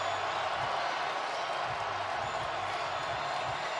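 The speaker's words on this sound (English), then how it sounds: "And listen to this crowd." A packed football stadium crowd at Ohio State versus Penn State roars in a steady, loud, unbroken wash of distant cheering and noise.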